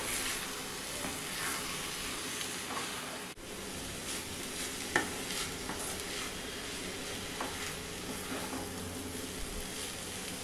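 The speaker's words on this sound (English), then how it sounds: "Keep the flame in sim mode and fry this for 2 minutes." Egg stir fry frying over a low flame, a continuous soft hiss and crackle with faint stirring scrapes and one small click, even and close with no voices.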